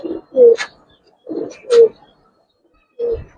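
A male and female pair of Giribaz pigeons call back and forth, three distinct throaty coos spaced about a second and a half apart, close and clear with quiet gaps between.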